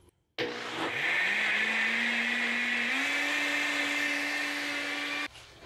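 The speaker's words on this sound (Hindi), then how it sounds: "अब मैं इसको मिक्स कर लूँगी अच्छी तरह, ये दही और सारी चीज़ें मिक्स हो जाएंगी।" A kitchen blender switches on and whirs loudly and steadily for about five seconds, mixing yogurt, gram flour, ginger, garlic and water. Its motor pitch rises slightly partway through before it cuts off, with no talking.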